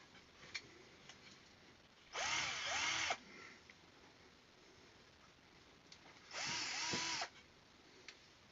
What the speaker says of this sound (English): I highly recommend you just hit it with the drill gun.